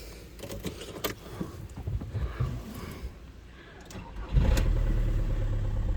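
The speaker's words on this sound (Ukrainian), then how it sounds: "Зараз цей автомобіль заведемо" A 2009 Seat Alhambra minivan engine cranks and catches, then settles into a steady low idle after some rumbling and clatter nearby.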